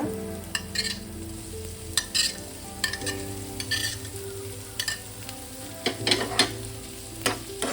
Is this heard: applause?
no